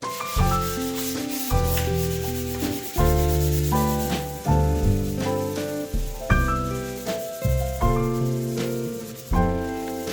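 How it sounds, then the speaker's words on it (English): Sandpaper worked by hand over a wooden window sill before undercoating, a series of close, rhythmic rubbing strokes that swell and fade repeatedly with no talking. "we'll get straight over to the sill, and what we'll do is give that a good sand down and wipe off ready"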